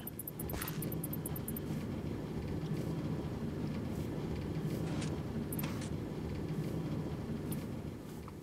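Oil train from the Railcraft mod in modded Minecraft rolling along its track, a continuous low rumble with scattered short high clicks and tones.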